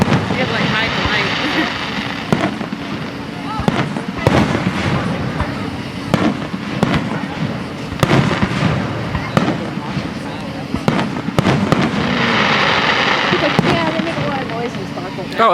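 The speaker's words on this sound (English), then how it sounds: "And I know where that was the newest firework of all. Lit up the whole sky." Fireworks burst in the night sky, sharp cracks and booms popping repeatedly at irregular intervals over a steady rushing background, with people talking and reacting throughout.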